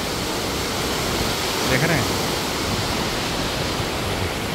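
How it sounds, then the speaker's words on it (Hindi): The Son river's water rushes out of the Indrapuri Barrage in Bihar, built in 1968, as a loud, steady roar of broadband noise, with someone speaking briefly over it. "पानी जो है वो सोन नदी का जो है इस तरह से बराज से बाहर आ रहा है"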